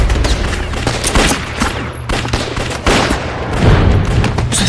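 A war film battle with a Japanese sniper produces a loud, dense fusillade of gunfire, the rapid shots and cracks continuing without a break.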